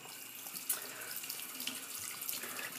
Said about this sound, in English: Just rinse off here.